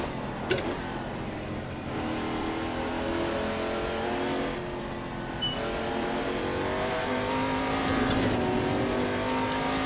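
A race car engine in a racing simulator mod, revving and shifting up through gears with rising and falling pitch, steady and close, with a faint tire squeal.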